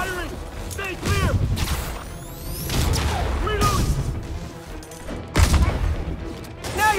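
Spider-Man Remastered combat with sharp gunshots and bursts of fire, punctuated by impacts and whooshes, with in-game voices speaking over the action.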